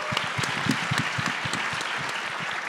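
A University of Mississippi audience gives a sustained round of applause, many hands clapping in a thick, even wash that stays strong throughout without talking.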